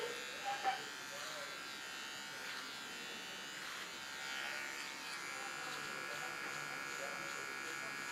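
Electric clippers buzz steadily while trimming the side of a beard, a continuous close hum that lasts the whole time, with no talk over it.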